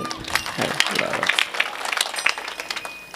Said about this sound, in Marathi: टाळ्या वाजवा महाराज